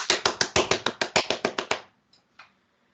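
A quick run of about a dozen sharp hand claps at a steady rhythm, close and loud, followed by two faint stray claps before silence.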